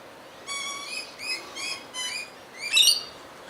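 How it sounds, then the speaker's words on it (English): Birds feeding and drinking at Loch Sport give a series of bright, close chirps in short bursts, ending in a louder, sharper call, over faint background hiss. "a quick shot of these birds having a bit of feed and drink"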